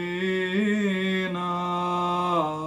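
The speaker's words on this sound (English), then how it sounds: "Gregorian chants was the first type of music to be written on sheets" A single voice sings a Gregorian chant, a sustained melodic line gliding between a few held pitches, clear, close and unaccompanied.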